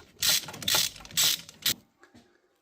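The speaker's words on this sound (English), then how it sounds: "I'm using basically the same extension, because then you get a good reach and you'll be able to easily tighten up the bolt" A ratchet on an extension tightens a bolt on a Land Rover Discovery 3 lower steering column: four quick bursts of close, sharp clicking, then a couple of faint taps in a quiet workspace.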